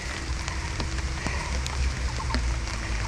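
Steady rain falling outdoors by a fish pond, a continuous close patter of drops with scattered sharper taps over a low rumble, with no speech.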